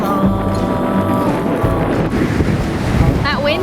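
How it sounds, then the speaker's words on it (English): Strong 15-knot wind buffets the microphone over the rush of water from a sailboat moving at 8 knots in the Bahamas, loud and continuous, with a few faint squeaky tones near the end. "That wind's picked up"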